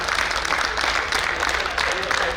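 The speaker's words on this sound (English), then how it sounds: "let's give them a big round of applause," An audience applauds a champion at an event, a dense, continuous wash of clapping that holds steady at full loudness throughout, with crowd noise and talk blended underneath.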